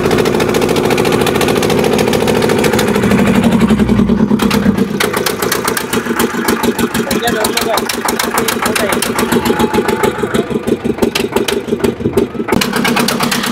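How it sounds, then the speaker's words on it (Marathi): A fishing boat engine on a Konkan creek starts up and settles into a loud, steady knocking chug close by, with voices talking over it. "चालू झाली बोट."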